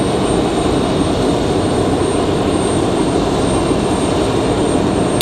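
A loud, steady roar rises from a Sun Country Airlines jet moving at Raleigh-Durham International Airport, continuous and unbroken from start to finish.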